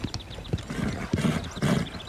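Horse hooves clip-clop in an outdoor riding scene, a few uneven thuds spread across the stretch, with a faint whinny-like call and a steady background wash; no talk over it.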